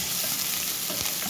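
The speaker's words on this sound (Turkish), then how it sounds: "Soğanlarımı ekliyorum." Chopped onions frying in a cup of hot oil in a pan, a steady dense sizzle heard close up with no pauses and no voices.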